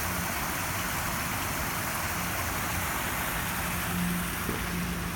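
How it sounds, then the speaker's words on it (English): Rain-fed streams on the UC Berkeley campus rush steadily, making a dense, continuous broadband wash of flowing water with no talking. "This is very soothing sound of water."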